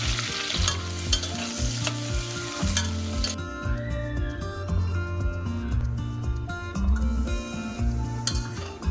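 Cashews, chopped onions and green chillies fry hard in a pan with cinnamon and bay leaf for coconut rice, giving a steady, loud sizzle broken by repeated stirring scrapes, with no talking.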